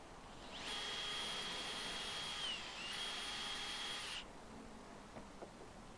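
A drill bores through a wooden dowel to clean up a rough hole, whining at a steady high pitch for about three and a half seconds with a brief dip midway, then stopping abruptly into quiet.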